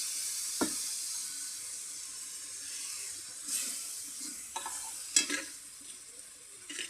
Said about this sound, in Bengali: এতে টমাটোরের পিউরি দিয়ে দেবো, যেটা আমরা করে রাখছিলাম, গ্রেট করে রাখছিলাম। তাহলে এর সাথে ভালো করে ভাজে নেব।